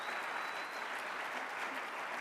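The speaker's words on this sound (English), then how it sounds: "Please give her applause." Audience clapping at a conference session, a dense, even wash of many hands filling the whole moment without pause, fairly loud and unbroken by any voice.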